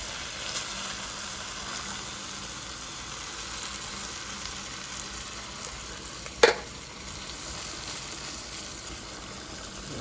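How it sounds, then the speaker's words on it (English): San Marzano tomatoes tip into a pan of sizzling meaty vegetable pasta sauce, a steady close frying hiss with one sharp splash-burst partway through, no voices. "I think it's time for the San Marzano tomatoes to go in."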